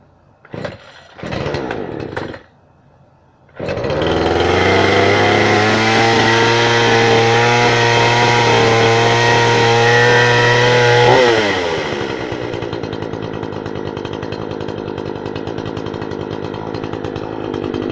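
A newly acquired gas chainsaw with a primer bulb runs: a couple of short bursts, then a loud sustained high buzz for several seconds that drops to a lower idle putter, with no voices.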